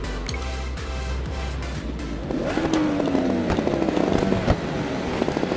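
A Yamaha MT-10 motorcycle engine roars off the start line in the racing game RIDE 4 at Road Atlanta, buzzing steadily then climbing in pitch as it revs up under poor traction.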